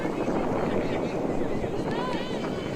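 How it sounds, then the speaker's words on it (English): Wind buffets a field effects microphone on a windy day at an Australian rules football match, a loud, steady low rumble lasting throughout with no clear voices. "can hear the wind in the effects mic"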